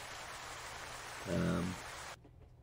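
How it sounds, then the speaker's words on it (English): Heavy rain falls outdoors as a loud, steady broadband hiss that holds for about two seconds, with a brief low murmur partway through, then cuts off abruptly into near quiet. "it's raining too heavily for us to stay outside at the moment"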